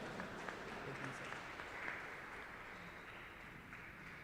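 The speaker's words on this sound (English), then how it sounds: "Please join me in welcoming him with a big round of applause." Audience applause fills a hall at the HCL Squash PSA Challenger Tour finals at Lakshyan Academy in Bengaluru, a steady, dense wash of clapping that carries evenly from start to finish with no voices on top.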